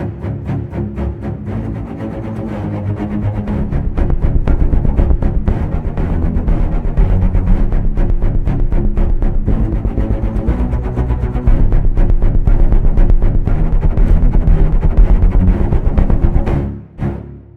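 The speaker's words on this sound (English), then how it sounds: "There's also a really cool built-in pulsate feature." ProjectSAM Pandora sound design library with its built-in pulsate effect, a dense loud texture throbbing in rapid regular pulses, sustained for several seconds before dropping away sharply at the close.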